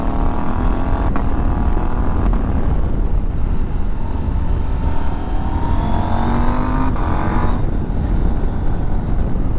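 A Husqvarna Norden 901 motorcycle engine drones steadily while riding at low revs in a high gear, with wind rush over it and a faint rise and fall in pitch.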